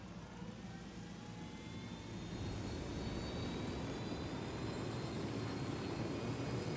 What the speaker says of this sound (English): Take this helicopter.